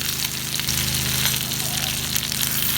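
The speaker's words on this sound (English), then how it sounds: "Let's cover again and let it keep grilling." Fish grills in a covered pan with a steady, dense sizzle and frying hiss throughout, fairly loud and close, with a low hum beneath it.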